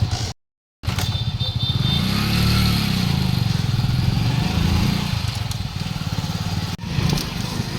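A motorcycle engine running close by, a loud steady chugging drone that holds for several seconds before fading slightly.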